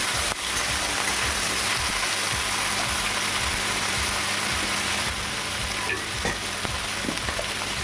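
Prawns are stirred and fried in a pan, with a constant loud sizzle and repeated scraping stir strokes near the mic, no talk.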